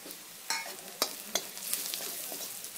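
Drumstick curry with turmeric, garam masala and coriander stirred in a hot pan, a faint sizzle broken by three or four sharp spatula scrapes against the pan.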